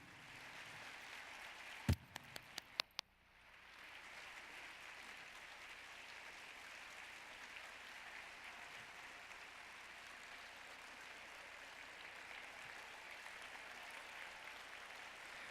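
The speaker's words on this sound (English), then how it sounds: "Big round of applause." A convention center audience applauds an honored group of people over 70, a steady broad wash of clapping that follows a few sharp knocks and carries on evenly at moderate level.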